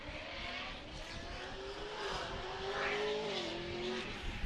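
An LS-powered Nissan S13 drift car at a 2014 Formula Drift qualifying round at Texas Motor Speedway in Fort Worth, its engine held on throttle in a loud, sustained roar with a gently rising and wavering pitch, heard at a distance.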